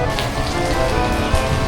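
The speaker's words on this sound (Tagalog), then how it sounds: "Ang lakas-lakas ng ulan." Heavy rain pouring down steadily on surfaces outdoors in Manila, a dense, loud, unbroken hiss with no pauses.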